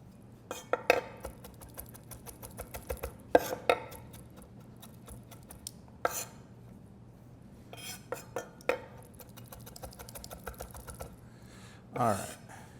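A knife chops ginger on a board in scattered bursts of quick, sharp taps with pauses between them, close and crisp, followed by a brief scrape near the end.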